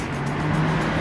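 A car speeds past on a city street in Charlotte, its steady engine roar loud and close for about a second against a dense road-noise background.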